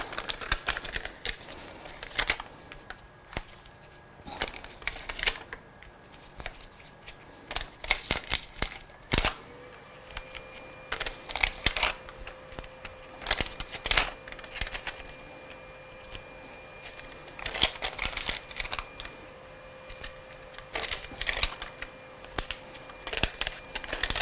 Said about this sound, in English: let's get some pads on the back and mount this onto our lovely card